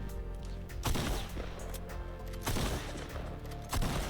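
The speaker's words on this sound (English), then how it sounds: "We do now have the legendary and epic version of the tactical shotgun" Legendary tactical shotgun blasts in Fortnite, four sharp loud shots spaced about a second apart, each followed by a short ringing tail over steady background game music.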